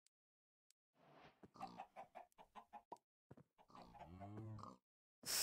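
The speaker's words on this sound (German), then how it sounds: "Was ist, haben wir hier auch ein Huhn?" Chickens in the Minecraft video game clucking in a quick run of short, rhythmic clucks followed by a longer drawn-out squawk, faint and alone with no voice over them.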